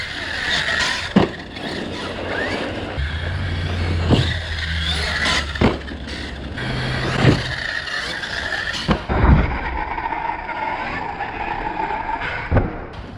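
An ARRMA Kraton 8s RC car on Duratrax MFT X-Maxx wheels whines and revs as it drives, with repeated bursts of acceleration, tyre scrabbling and sharp knocks over about thirteen seconds.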